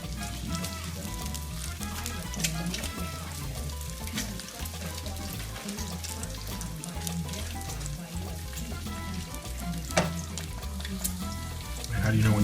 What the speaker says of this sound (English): Cooking the bacon.